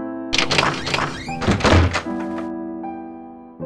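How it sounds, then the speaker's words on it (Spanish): A door on a badly greased hinge is thrown open with a loud, harsh burst of creaks and a heavy thunk, then the noise fades into a low sustained tone. "Una bisagra mal engrasada, hizo que el sonido que la puerta realizó al abrirse fuese estruendoso, y bastante molesto."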